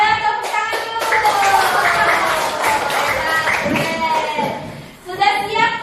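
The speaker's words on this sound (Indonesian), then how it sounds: "Nah, ayo tepuk tangan dulu." Children clap their hands together in a classroom while young voices chant or sing loudly throughout, and a brief burst of claps and shouting rises near the end.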